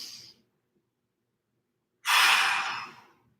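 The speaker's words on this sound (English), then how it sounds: "Let's go 5 big breaths. In through the nose, out through the mouth." Two deep breaths during a mobility warm-up: a brief exhale at the start, a long silence, then a loud, rushing breath out lasting over a second, with no talking.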